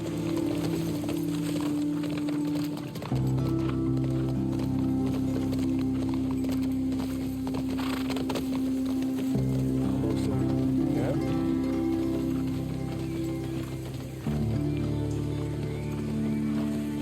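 Horse hooves clopping at a steady gallop in The Last of Us Part II, running under a constant musical bed and game ambience, with a brief whinny possible and no clear talk.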